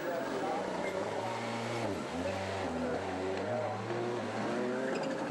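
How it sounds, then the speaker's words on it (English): A Skoda rallycross race car runs a joker lap at a 2012 European Rallycross Championship round in Germany, its engine droning and shifting in pitch at mid-distance under continuous commentary and crowd noise. "And now it's up to the leader, Peter Hedström, to do his joker lap. Here he comes, Swedish Skoda driver"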